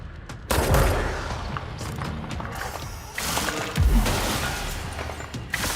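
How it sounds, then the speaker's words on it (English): Video game gunfire crackles as a dense, loud fusillade of rapid shots and mechanical clatter, with sharper close bursts standing out over a continuous noisy background and no talking. "Who's shooting?"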